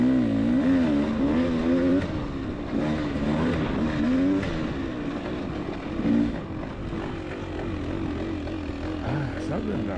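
A dirt bike engine revs and rises in repeated, wavering bursts on an off-road trail at Cherry Creek, loud and close throughout with steady rough background noise.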